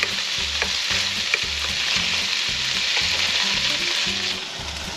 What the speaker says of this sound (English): Let those sizzle away.